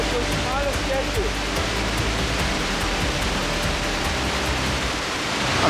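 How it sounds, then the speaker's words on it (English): Loud, steady roar of rushing water from a waterfall in Shikoku, Japan, fills everything, a dense continuous wash of noise with no breaks, close and overwhelming. "I'm trying to hide from the waterfall because it's really loud"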